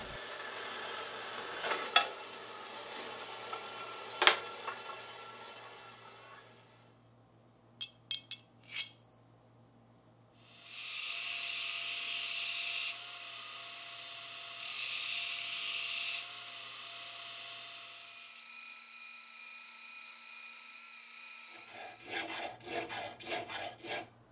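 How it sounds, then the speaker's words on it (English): Cast aluminum bronze hatchets being ground smooth, with a few sharp metal knocks and clinks first, then long loud bursts of abrasive grinding separated by short pauses, close and without talk. "I'll cut off the excess metal and then get to work grinding them smooth"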